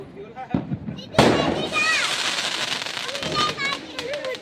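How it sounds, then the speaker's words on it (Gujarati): A sharp firecracker bang followed by crackling, fizzing bursts of Diwali fireworks close by, spraying in flower-like patterns, with voices talking over the noise. "આમ ફટાકડો ફૂટીને એટલે જોજો ફૂલડો થઈ જાય એવી ડિઝાઇન પડે"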